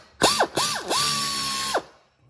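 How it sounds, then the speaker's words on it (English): A ratchet tightens bolts on a Subaru wheel hub during a rear hub bearing job, with close, loud clicking strokes, two short back-and-forth swings and then one longer steady pull, with no talk. "now I'm going to evenly torque down these bolts"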